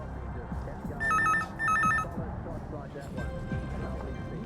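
Two ringback tones from a dialed telephone, each a double burst, sound clearly over background noise and faint murmuring, followed by a click and a fainter tone as the call connects.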